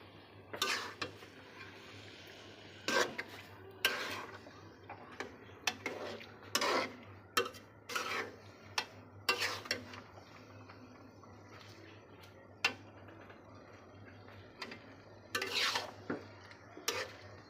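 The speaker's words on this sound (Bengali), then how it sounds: "এখন আমি আমগুলো দিয়ে দিব। আমগুলো ভালোভাবে নেড়ে" Mango pieces being stirred in a cooking pot over boiling liquid: intermittent scraping and clinking of a spoon against the pot, in irregular bursts over a low steady hum.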